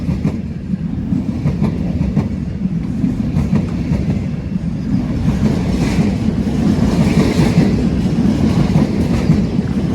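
A Class 390 Pendolino electric train passes close by on the West Coast Main Line, its loud rumbling roar swelling with rhythmic wheel clatter over the rails, steady throughout with no talking.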